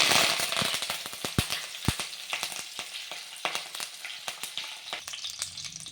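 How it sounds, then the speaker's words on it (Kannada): Curry leaves hit hot oil already popping with mustard seeds, setting off a burst of loud crackles and spits that thin into a lighter, steady sizzle with scattered pops. "ಇದಕ್ಕೆ ಇವಾಗ ಕರಿಬೇವು ಹಾಕ್ಕೊಂತೀನಿ"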